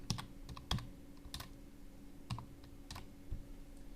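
Someone types a single word on a computer keyboard: scattered, irregular key clicks, fairly close and quiet, with short pauses between presses and a faint steady hum underneath.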